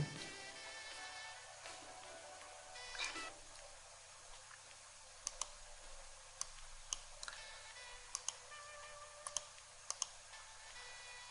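Sharp, faint mouse clicks on a computer running CorelDRAW, scattered irregularly in small clusters over a low, steady room hum, with no voices.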